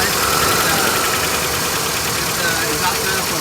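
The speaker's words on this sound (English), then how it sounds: "Exhaust leak right there." A 2.4-liter Toyota pickup engine idles close by with an exhaust manifold leak, giving a steady, loud, rough rumble with a ticking, hissing edge and a voice speaking over it.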